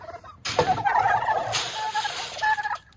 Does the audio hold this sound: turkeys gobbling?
yes